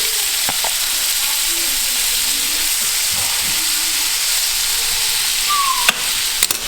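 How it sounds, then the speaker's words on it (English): Steady, loud sizzling of flounder frying in a hot pan, a continuous crackling hiss with a few sharper pops near the end. "get this flounder in the pan. Listen to that sizzle."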